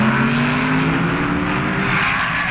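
Junior stock drag race cars, an automatic 1962 Plymouth and a four-speed Corvette, roar at the 1966 NHRA Nationals in a loud, continuous, rising engine blare with no talk.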